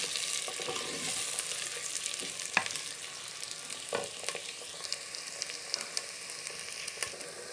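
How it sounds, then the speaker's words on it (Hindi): Onions fry in a pan for chicken masala, a soft, steady sizzle at moderate distance broken by a few sharp clicks and spatula scrapes, with no voices. "प्याज ब्राउन फ्राई होना शुरू हो गया।"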